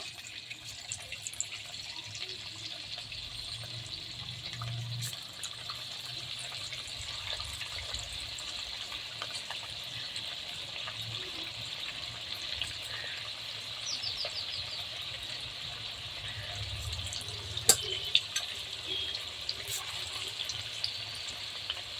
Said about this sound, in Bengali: তেল একদম পুরোপুরি আমার গরম হয়ে গেছে। এবার আমি পকোড়াগুলোকে একে একে দেব।